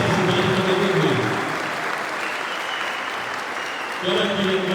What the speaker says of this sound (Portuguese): eu gostaria de dar uma salva de palmas para todos vocês que estão aqui hoje